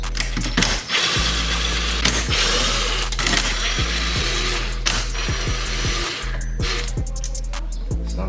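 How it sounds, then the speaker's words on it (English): Torx screws being removed from the head unit of a BMW F30, heard as a mechanical whirr and repeated ratcheting clicks from a driver, with a low steady hum underneath and short pauses between screws. "So go ahead and remove these screws."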